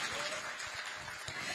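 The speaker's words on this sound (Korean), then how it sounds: "다시 한번 큰 박수 부탁드립니다." Brief burst of steady, even applause from an audience at a national government policy briefing event with the prime minister, continuous and fairly close throughout.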